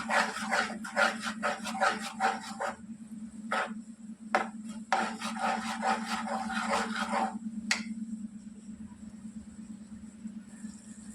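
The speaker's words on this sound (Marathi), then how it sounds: "चांगलं असं मिक्स करून घ्यायची आहे" A spoon stirs garam masala and kitchen king spice mix into sev bhaji in a pan, giving a run of close scraping, rasping strokes in bursts with short pauses, over a steady low hum.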